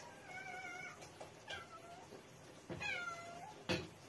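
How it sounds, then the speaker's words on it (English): An unhappy house cat meows repeatedly in a kitchen, a series of short, plaintive cries and one longer wail, fairly close over steady room noise. "And one of my son's cats has arrived to join in"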